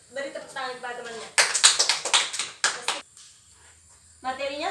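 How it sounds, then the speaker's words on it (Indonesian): Students in a classroom give a short burst of clapping for a classmate. Close, crisp hand claps last about two seconds, with a teacher's speech before and after. "Beri tepuk tangan kepada temannya."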